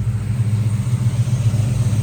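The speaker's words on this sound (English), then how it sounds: "Great sounding engine, really healthy, 3-inch dual exhaust with an X-pipe." A healthy 1971 Chevrolet Chevelle engine dynoed at 435 horsepower, running through 3-inch dual exhaust with an X-pipe, gives a steady, deep, loud idle rumble with no talking.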